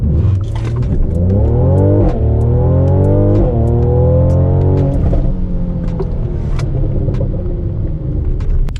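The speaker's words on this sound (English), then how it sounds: "So we're gonna try the 0 to 60 right now." Tuned Mercedes C43 AMG launching hard from a standstill, engine roaring loud and close through rising revs with sharp shift breaks, then a continued strong pull.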